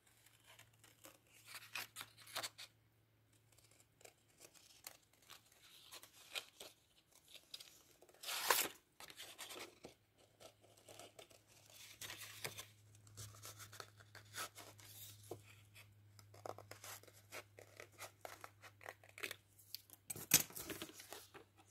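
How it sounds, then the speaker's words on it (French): Scissors cutting out a circle for a paper witch hat, a series of crisp snipping and crunchy paper-tearing sounds in irregular bursts, close up, with a faint steady hum behind and a couple of louder cuts. "on va couper le cercle à l'intérieur"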